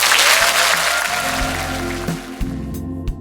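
Citizens applaud to welcome a provincial governor at a town hall meeting in a cultural arts center with about 500 attendees, a loud clapping that fades as a low musical tone runs beneath it.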